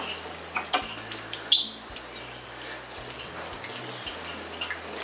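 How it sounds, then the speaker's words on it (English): Warm water poured into a blender over the blade and coconut pieces, a steady trickling splash with small clinks, moderately close and without talk. "add a little bit of warm water now, because that more or less liquefies the oils and I just put it over the blade"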